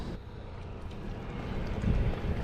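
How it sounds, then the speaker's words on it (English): Wind buffets an open boat on the Mississippi River during catfish fishing, a steady low rumble of gusts with water movement that swells louder toward the end, with no voices. "The wind has changed just a little bit, but it still looks rough out there."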